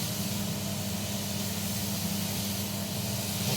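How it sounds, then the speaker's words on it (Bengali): Pointed gourd (potol) frying in a pan, a steady close hiss of sizzling oil that holds evenly throughout without pauses or voices. "পটলটা ভেজে নিচ্ছিলাম"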